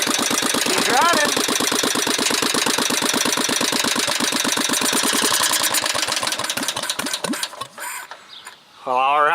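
A Manco engine running just after a cold start, its fast, even put-put firing loud and close for most of the clip before it stutters and dies down near the end, then briefly catches again.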